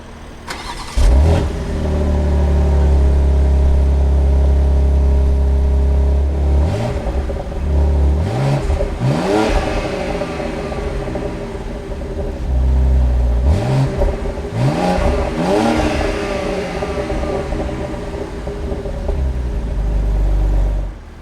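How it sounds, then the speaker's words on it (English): A 2020 BMW X3 M SUV with quad exhaust outlets starts and revs hard several times, loud, close, throaty bursts rising and falling over a steady rumbling idle. "the quad exhaust outlets to pump out that excellent sound"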